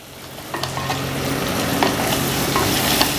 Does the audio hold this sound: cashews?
yes